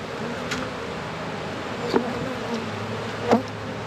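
Honey bees hum steadily at a beehive in December, with a dense, close buzz and a few individual bees flying past more loudly.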